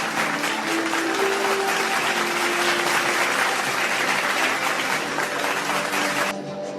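Sustained crowd applause fills a hall at an alumni meet of LTIPS, Pune and LTIP, Kharghar, steady and dense for several seconds before cutting off abruptly near the end, with a faint low hum underneath.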